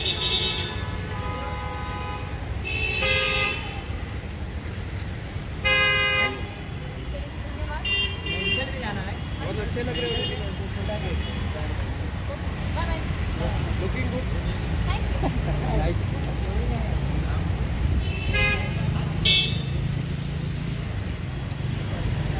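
Busy Mumbai street traffic rumbles steadily in Andheri while short car horns toot repeatedly in bursts, and people talk nearby over the road noise.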